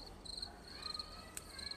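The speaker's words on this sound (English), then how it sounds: "how did the crickets make the sounds with the legs?" A cricket chirps in quick, repeated high trills against a quiet outdoor background, faint and steady.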